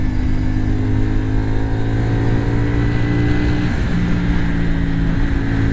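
A 2024 CFMOTO 450 SR-S sport motorcycle hums steadily under way on a winding road, its engine drone constant and close with a brief pitch dip midway, no talking.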